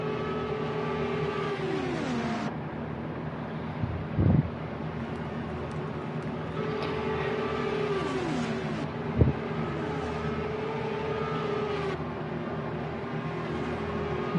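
Indycar race cars lapping an oval track at Texas in a PC racing game, engines droning steadily with passes sweeping by in long rising-and-falling whines, plus a couple of brief thumps.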